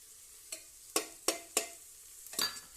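Finely chopped capsicum sautéing in a pan after tomatoes, heard as a quiet background with five distinct spatula scrapes and stirs spaced about a third of a second apart, close and without talk.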